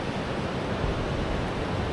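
Ocean surf crashes against rocks on the Oregon coast, a dense continuous broadband wash of water and spray, loud and close with steady intensity and no voices.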